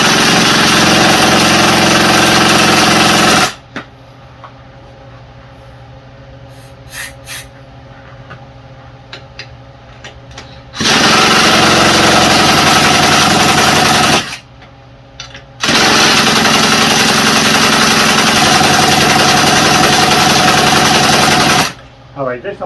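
An electric drill with a 14mm socket spins over a Troy-Bilt TB227XP engine through its pull-start, three long loud steady whirring bursts with quieter gaps in between.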